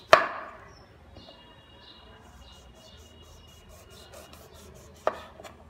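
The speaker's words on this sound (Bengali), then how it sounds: "সেজন্য প্রথমে লেবুর দুই পাশের অংশ কেটে নিচ্ছি।" A knife slices the two ends off a washed lemon, making two crisp, sharp cuts about five seconds apart, with quiet handling sounds between them.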